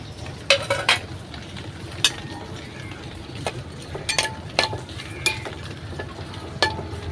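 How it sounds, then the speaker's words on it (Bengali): Onion fries in hot oil in a pan, giving a steady close sizzle, while a utensil stirs it and scrapes and clinks sharply against the metal at irregular intervals. "এখন আমি পেঁয়াজটা ভেজে নেব। আমার এটা যে তেল দিমু, তেল দিয়ে পেঁয়াজটা গরম করে লাল করে নিমু।"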